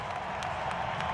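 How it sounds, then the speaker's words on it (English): A rugby crowd at a 2003 Rugby World Cup match gives a standing ovation, a dense, steady roar of applause and clapping filling the stadium throughout. "And they are getting a standing ovation."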